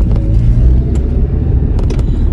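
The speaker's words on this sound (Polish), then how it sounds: "Jadę sobie autem i pewnie je słyszycie gdzieś tutaj w tle." Low, steady engine rumble from inside a moving car, loud and continuous throughout with occasional small clicks and knocks, and no talking.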